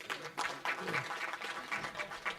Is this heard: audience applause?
yes